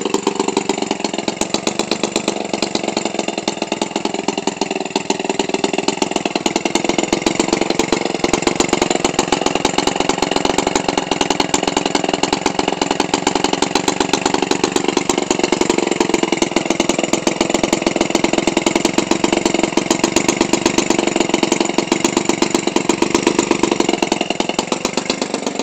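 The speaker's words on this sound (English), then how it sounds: "A lot of power here for a 28cc engine, man." A Toro 28cc radio control gasoline engine idles loudly and steadily up close, an even, buzzing drone with a fast regular firing pulse and no pauses for the whole stretch.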